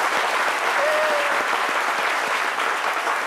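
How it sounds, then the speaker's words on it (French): Dense, steady applause fills a studio audience on a French-language midday TV show, a continuous close wash of clapping honoring a guest's large village family, with no talk over it. "on va applaudir la famille de..."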